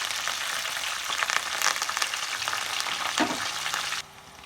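Curry leaves, chillies, cumin and mustard seeds sizzle hard in hot oil for an Andhra-style okra fry, a loud, dense crackle with sputtering bursts that suddenly drops to a quiet hiss near the end.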